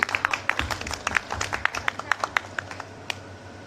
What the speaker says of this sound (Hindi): तालियां बजाइए, तालियां बजाने में कंजूसी ना करें।